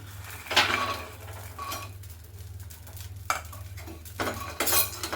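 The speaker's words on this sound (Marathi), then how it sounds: "हे तर आपल्याला असे मस्तपैकी खरपूस भाजून घ्यायचे" Soybeans are stirred and dry-roasted in a metal pan, with a spoon scraping and clinking against the pan in short bursts, close and moderately loud, with no talk.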